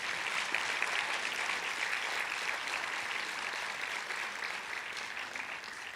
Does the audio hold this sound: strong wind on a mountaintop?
no